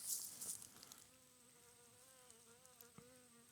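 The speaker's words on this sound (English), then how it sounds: "try and get a stand in there in that funnel as a giant good news bee" Giant good news bee flying in a wooded funnel on an August day, a faint wavering hum that drifts in pitch, with rustling and a few soft knocks at the start.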